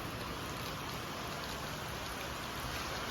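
Steady heavy monsoon rain pours down without pause in Tuljapur, a dense even hiss of drops drumming on surfaces throughout.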